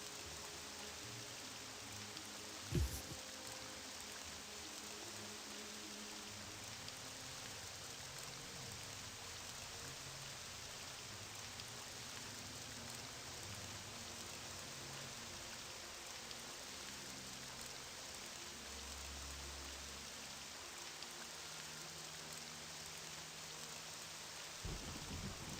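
Steady in-game rain from the Elder Scrolls game Morrowind falls without pause, with a low rumble of thunder near the start and another deep rumble toward the end, and no voices.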